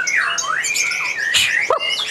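A white-rumped shama sings loudly at a bird market, its bright, sweeping whistled phrases and sharp chirps coming close and clear for about two seconds with no talk.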